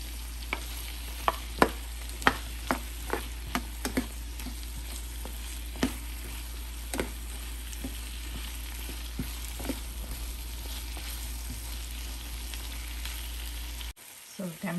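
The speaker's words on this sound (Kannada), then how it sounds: "ಟೊಮೆಟೊ ಹಾಕ್ತಾ ಇದ್ದೀನಿ." Two small chopped tomatoes frying in a pan, a steady close sizzle with scattered sharp clicks of a utensil stirring and scraping, no talking, ending in a sudden near-silence.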